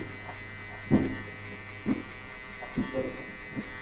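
Electric hair clipper buzzing steadily up close during a mid skin fade haircut, with soft scraping bumps as the blade passes through the hair.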